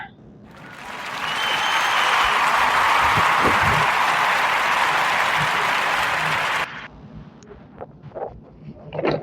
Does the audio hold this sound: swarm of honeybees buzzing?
no